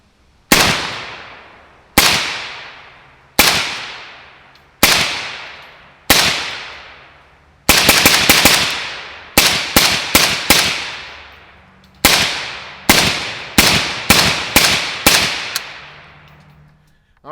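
Zastava M85 rifle fired with an Anechoic 5.56 suppressor and J-Mac brake, sharp cracks outdoors: five spaced single shots, then a rapid burst and several quicker strings, each with a decaying echo tail, no talking.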